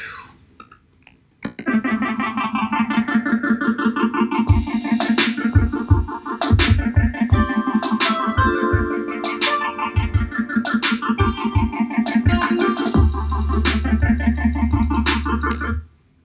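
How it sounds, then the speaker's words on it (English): A synthesized bell loop rings out in bright chiming tones over a thumping beat, layered and continuous after a brief quiet start. "I believe that instrument was called something bells"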